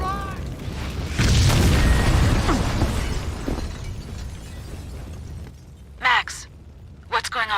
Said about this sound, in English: The room's full of explosives!